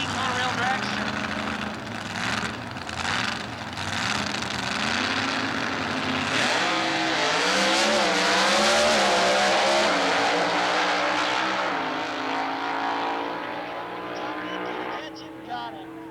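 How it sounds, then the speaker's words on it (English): A 1984 B monorail dragster powered by a 358 cubic inch Buick engine roars down a drag strip, its loud, rising engine note sweeping past over a track announcer's commentary, then fading toward the end. "1984 dragster with a Buick 358 cubic inches in the frame rails"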